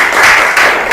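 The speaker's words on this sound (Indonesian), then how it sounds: "Tepuk tangan untuk kalian semua." Short burst of classroom applause as a class of students claps together, a dense steady patter at moderate loudness with no talking over it.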